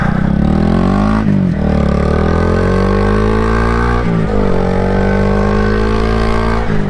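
A 2022 Honda Grom motorcycle engine revs loud and close, its pitch climbing through gears with brief dips at each shift, a continuous buzzing drone with no talking.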